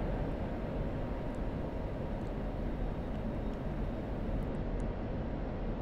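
Steady, broad jet engine roar from an F-16C Viper taking off in the DCS flight simulator, a constant loud rumble holding level throughout with no talk over it.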